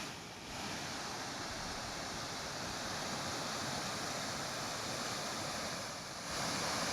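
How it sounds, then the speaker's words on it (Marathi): Laling waterfall near Dhule, swollen after rain, gives a steady, dense roar of rushing water heard from a distance, unbroken and even throughout with no voices. "लळिंगचा धबधबा ओसंडून वाहू लागलाय"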